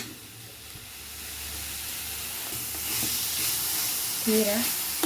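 Ponnanganni spinach greens frying in oil for a chutney, a steady sizzle and hiss that swells slightly midway, with soft stirring and a short clatter near the end.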